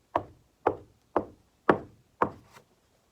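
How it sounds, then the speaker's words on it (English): Five evenly spaced knocks on a large wooden door, each a solid, resonant thud with a short decay, close and clear against silence. "he knocked on the large wooden door"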